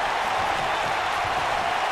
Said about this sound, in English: This crowd has literally been on the edge of their seats ever since this title match kicked off.